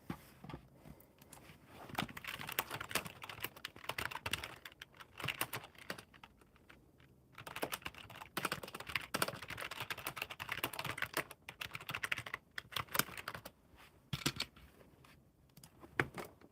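Rapid typing on a computer keyboard, with dense, uneven bursts of key clicks running steadily throughout at a fairly quiet level and no talking.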